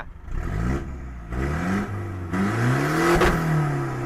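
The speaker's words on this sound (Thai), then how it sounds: "เดี๋ยวจะเบิ้ลให้ดู เลยละ มาฟังเสียงของ ฟังเสียงท่อ" A tuned-up Titan pickup engine blipped and revved up, several rising throttle pulls with a rumbling exhaust note, loud and close, with no talking.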